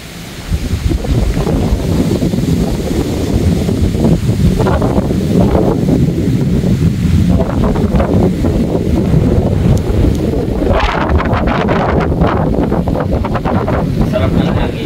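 Wind gusting across a house balcony with a view, a steady rushing buffet against the microphone that stays loud and continuous throughout, with faint voices underneath.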